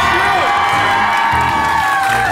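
A game-show audience cheers and shouts continuously, loud and close, with raised voices over a steady crowd roar.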